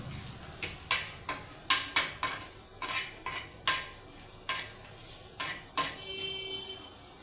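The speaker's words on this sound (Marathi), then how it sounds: "आता हे सर्व मिक्स करून घेऊ." A spoon scrapes and clacks against a pan in a string of sharp, uneven strokes while onions are mixed with masala and salt, a faint sizzle running underneath and no voices.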